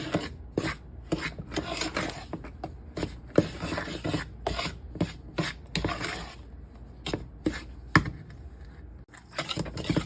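Ingredients including sugar being mixed by hand in a bowl for homemade chili corn dog batter, heard as a steady run of close scraping and rasping strokes against the bowl, alone and fairly quiet.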